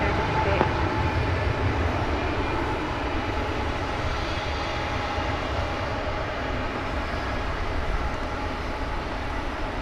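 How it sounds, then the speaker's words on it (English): An American Airlines Airbus A321 arriving from Las Vegas at DFW Airport at night gives a steady, fairly distant jet engine roar that holds evenly for the whole stretch. "And that was an Airbus A321 arriving from Las Vegas."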